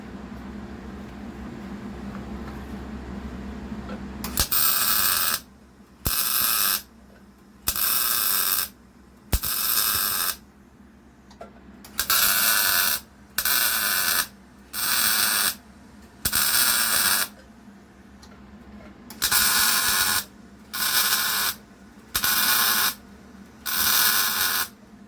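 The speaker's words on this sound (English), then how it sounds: "Now I'll do the back welds." Welding the back welds on a steel frame for an Atlas forge, heard as a series of harsh buzzing bursts a second or two long separated by short pauses, close and loud over a low background hum.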